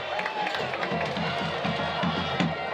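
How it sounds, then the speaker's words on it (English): Crowd noise at a night varsity high school football game between Colonia and Scotch Plains, a steady roar of many voices with cheers and shouts rising in bursts and continuing throughout. "Very active crowd tonight by the Patriots, huh? The man's got the crowd fired up."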